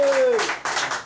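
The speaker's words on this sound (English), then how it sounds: "Big round of applause." An evening audience claps for an accordionist and vocalist in a brief burst of applause, close and lively, with a sustained tone fading under the clapping at the start.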